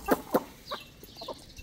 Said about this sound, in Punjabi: ਮੁਰਗੀਆਂ ਇਕੱਠੀਆਂ ਹੋਈਆਂ ਵਾ